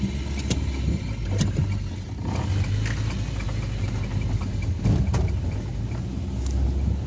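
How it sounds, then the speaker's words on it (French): Citroën BX car being driven out of a workshop after a rear suspension cylinder repair, its engine running with a steady mid-pitched hum and faint clanks, no voices. "Allez, on sort cette bagnole."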